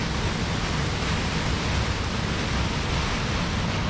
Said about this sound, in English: Check it out, there's a massive waterfall.